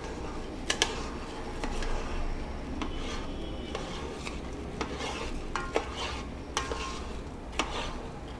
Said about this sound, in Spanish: Van revolviendo.